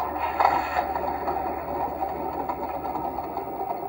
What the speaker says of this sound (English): I'll just wait for it to finish starting up with its two engines.